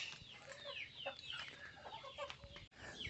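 A hen clucks steadily in a backyard vegetable garden, with other poultry calls mixed in among soft outdoor background noise.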